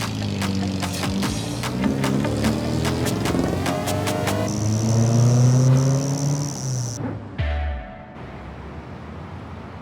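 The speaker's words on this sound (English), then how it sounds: "I'm pretty happy with how the car's running so far." Engine of a JDM car runs after a roadside ignition fix, revving with rising and falling tones and a steady whine, loud and close, before cutting off abruptly near the end.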